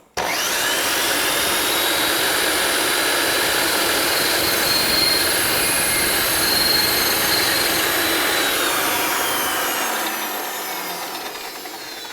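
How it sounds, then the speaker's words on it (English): A power saw cutting a part for a robot's fuel mechanism, a loud steady whine that holds for about ten seconds and then slowly winds down as the blade spins to a stop. "Let the saw slow down before I reach in there to get the piece."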